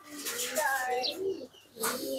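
Pigeons cooing on a rooftop garden, a soft repeated rolling coo close by, with a person talking over and between the calls.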